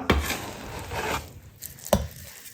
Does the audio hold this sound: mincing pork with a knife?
yes